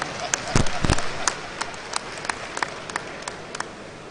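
An audience at a Niger-Delta stakeholders summit in Port Harcourt gives a short round of clapping, a couple of sharp close claps followed by thinning scattered claps that fade out.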